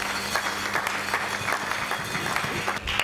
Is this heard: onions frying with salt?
no